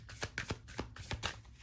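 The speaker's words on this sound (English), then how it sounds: "Okay, I'm already getting a message around that card, but we're gonna keep shuffling." Oracle cards being shuffled by hand, a run of crisp riffling bursts at a steady rhythm, close and fairly quiet with no talking.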